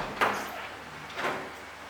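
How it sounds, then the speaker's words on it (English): A door is shut and locked indoors, giving two faint, brief knocks about a second apart over a quiet room hush. "Lock the door,"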